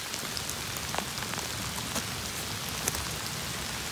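Steady rain pours down in a forest during mushroom gathering, a dense, even hiss of drops on leaves and ground with a few louder nearby splats, no voices.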